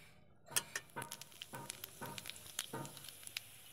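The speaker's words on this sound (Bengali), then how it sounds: "জিরে তেজপাতা ফোড়ন দিচ্ছি" Cumin seeds and bay leaf crackle and spit in hot mustard oil, a close burst of quick pops and sizzling bursts that starts suddenly and keeps sputtering unevenly, with no voices.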